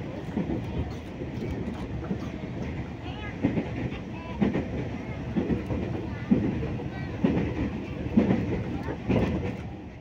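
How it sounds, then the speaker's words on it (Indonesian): An airport rail link train runs along its tracks, a steady low rumble with rhythmic clicks from the rails throughout, while people talk faintly in the carriage. "hari ini aku mau pergi menggunakan kereta api bandara"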